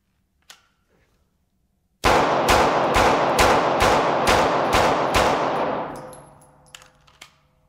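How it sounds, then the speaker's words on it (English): Rapid gunfire strikes a lightweight body armor vest in a burst of about eight loud, evenly spaced shots. Each report rings out sharply, and a short echoing tail follows the volley. "I'm actually going to try to just go ahead and rapid fire, spread it out around the vest more realistically."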